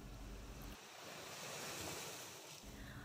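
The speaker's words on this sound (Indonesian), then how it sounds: "Desir angin dan riuh ombak dengan gagah saling bersaut-sautan" Ocean surf breaks on a shore under strong wind, a dense steady roar of waves with gusty wind buffeting the microphone, no voices heard.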